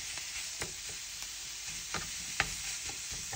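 Minced meat sizzling in a pan with translucent softened onions, a steady close frying hiss broken by scattered spatula scrapes and soft clicks as the meat is pushed apart, with no voices.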